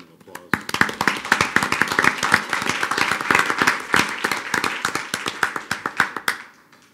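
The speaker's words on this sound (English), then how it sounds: "I'd like to give her a round of applause." School board meeting audience applauding, starting with a few claps then building into brisk, crisp clapping from a modest crowd in a room, fading out near the end.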